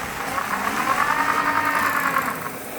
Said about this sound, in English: You can barely hear this motor run.